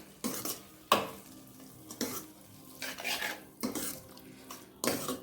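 A spoon stirs a salt, chili powder and turmeric mix into peas frying in oil for street-style batani chaat, making rhythmic scrapes and clinks against the pan over a soft sizzle, heard close up without talk.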